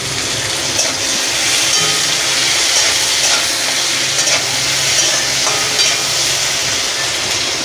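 Onion stirs and fries in a pan with a loud, steady sizzle, and spatula scrapes recur through the crackle from start to finish.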